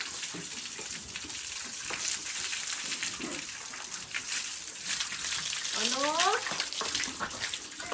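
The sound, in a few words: water splashing while bathing a cow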